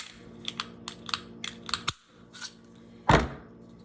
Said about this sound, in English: Pop up, I drop the mag.